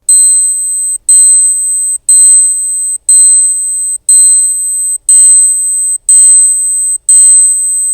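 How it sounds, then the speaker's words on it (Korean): A Seiko Spirit chronograph wristwatch alarm beeps in eight evenly spaced, high-pitched bursts about once per second, close and clear against silence. "알람 소리를 한번 들어볼까요?"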